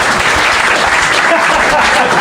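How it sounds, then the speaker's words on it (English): A live podcast audience in London gives a dense, steady round of applause that fills the room, loud and close, with voices mixed into the clapping. "We do have a round of applause."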